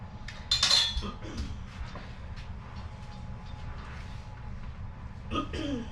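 A spoon stirs salt into soft pretzel dough mixture in a bowl, with light clinks and scrapes against the bowl over a steady low background hum.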